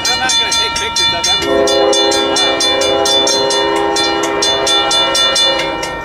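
A train rolls past during weekend trackside railfanning, its horn sounding in long sustained blasts over steady rumbling and a rhythmic clickety-clack of wheels on rail joints, loud and close throughout.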